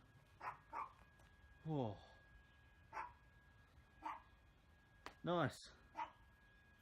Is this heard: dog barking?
yes